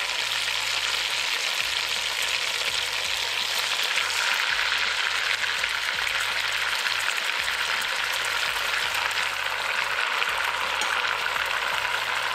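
Beef pieces for barbacoa searing in a pan, a steady, dense sizzle that runs without a break for the whole stretch, close and fairly loud, with no talking.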